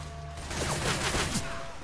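Gunfire in the zombie shooter Left 4 Dead 2, a quick spray of shots over about a second, moderately loud against steady game background noise.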